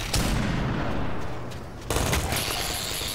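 Half-Life 2 gunfire crackles in dense bursts, loud and close, dips briefly, then resumes in another heavy volley with no voices.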